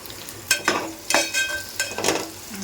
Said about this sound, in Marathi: पटापट आता मी कांदा तर घातलेला आहे